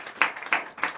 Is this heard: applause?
yes